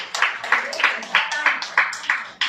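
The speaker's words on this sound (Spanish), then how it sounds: "dale fuerte aplauso al Señor" A church congregation claps for the Lord in a steady rhythm, a dozen or so loud, close claps following one another quickly.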